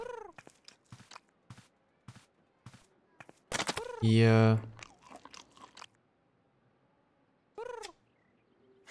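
A cat eats pigeon-flavoured cat food, meowing several times and making a burst of wet chewing and crunching, with a brief human voice in between.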